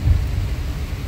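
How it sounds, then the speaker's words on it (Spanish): Steady rain falls onto already wet ground, a dense, continuous low rumbling wash that holds fairly loud for the whole moment with no voices. "aquí yo tengo cómo está lloviendo, amigos. Sí, está cayendo agua"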